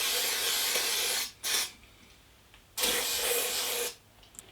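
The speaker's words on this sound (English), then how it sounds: "I'm going to spray it with degreaser and give it a clean" Degreaser sprayed onto a Paslode nail gun held angled over a container: a long close hiss, a very short burst, then another long hiss, with quiet gaps between.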